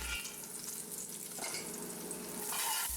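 Chopped onion and celery sear in bacon grease in a cast iron pot for clam chowder, giving a dense, continuous close sizzle and crackle with no talk.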